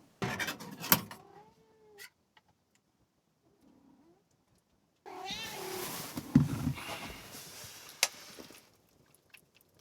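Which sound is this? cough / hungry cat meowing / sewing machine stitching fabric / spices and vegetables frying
hungry cat meowing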